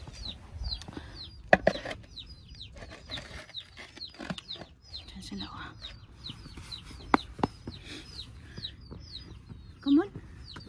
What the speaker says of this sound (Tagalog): I-check ko lang yung mga manok namin.